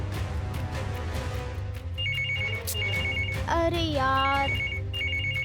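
A telephone ringtone repeats its short electronic beeping pattern in a home during a Hindi TV drama, sitting over steady background music, with a brief spoken exclamation partway through.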